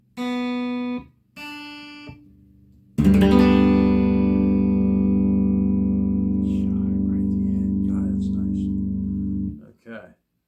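An electric guitar strung with new DR strings plays through a rotary Leslie-style effect pedal: two short plucked notes, then a loud sustained chord that rings with warbling modulation for about six seconds before fading.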